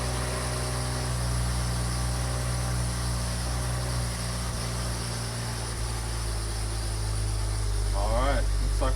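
BMW F10 535i with an N55 engine idling steadily after a cold start, a continuous low mechanical hum with a faint high whine, while a voice speaks briefly near the end.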